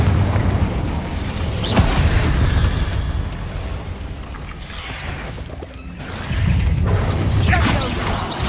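Incendio fire spells in Hogwarts Legacy erupt in booming, crashing bursts of flame, loud at the start, easing through the middle and surging again near the end amid a busy battle.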